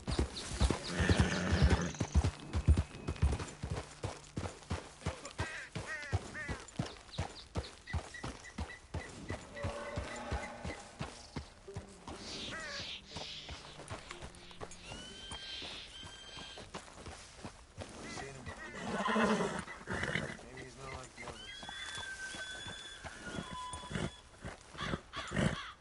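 Horse hooves clip-clop at a gallop with repeated whinnies and neighs, in a PS4 video game; the steady hoofbeats run throughout with several high neighs later on, fairly loud and close.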